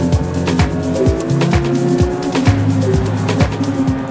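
Porsche 911 GT3 2022 flat-six screaming toward its 9000 rpm limit on the Mont-Tremblant race circuit, loud and close, with repeated rising revs and sharp drops between gear changes.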